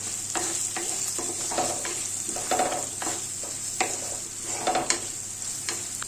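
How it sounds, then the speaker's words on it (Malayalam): Turmeric powder is stirred into frying ginger, garlic and chillies for mango pickle, with a steady close sizzle and repeated scraping strokes of a spoon against the pan, with no voices. "ഒരു 1/4 സ്പൂൺ മഞ്ഞൾപ്പൊടി നല്ല ഇളക്കി കൊണ്ട് കൊടുക്കാം"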